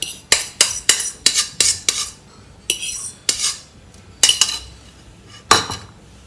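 Mashed bananas being mixed into flour in a bowl for banana fritters, with a spoon clinking sharply against the bowl in quick repeated strokes, pausing briefly between bursts.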